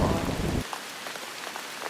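Steady rain falls on surfaces, a dense, even hiss with scattered drop patters; a heavier low-frequency rush in the first half-second cuts off, leaving lighter, continuous rainfall alone with no talk.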